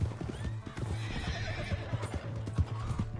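Horses in the Red Dead Redemption 2 video game: steady clip-clopping hooves with a loud neigh and whinny riding over them, close and continuous.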